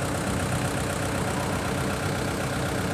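Heavy machinery engine idles steadily on a hydraulic hammer rig, its overheated motor recently rebuilt after a major overhaul; a dense, constant low rumble with broadband noise, close and unbroken throughout.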